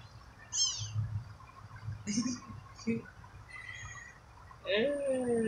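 A domestic cat meows repeatedly at close range, a few short rising and falling calls spaced over several seconds, with a voice speaking briefly between them.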